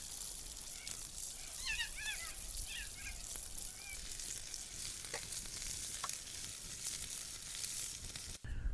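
A steak cooked medium rare over a campfire at an outdoor camp gives a steady, moderately faint sizzle with a few soft clicks, and a bird chirps briefly in the background.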